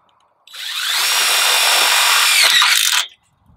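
A power drill whines steadily for about two and a half seconds, close and loud, as it drives a tek screw into metal wire channel at a seam, then stops abruptly.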